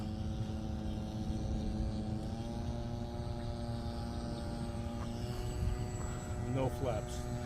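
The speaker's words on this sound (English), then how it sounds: "Yeah, this plane really flies good slow." An RC P-51 Mustang model plane, a Reno racer 'Galloping Ghost' replica with a 1016 mm wingspan, drones steadily through a slow low pass, its engine tone holding level with a shift near the end.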